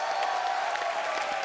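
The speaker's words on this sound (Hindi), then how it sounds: "तो जोरदार तालियां हो जाए।" An audience claps and cheers at a live event, a brief continuous wash of applause with a steady tone running beneath it.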